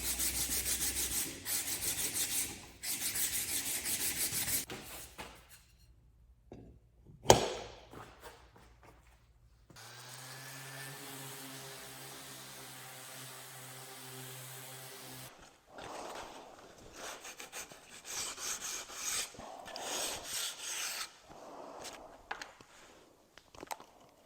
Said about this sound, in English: I hand sanded this with 80 grit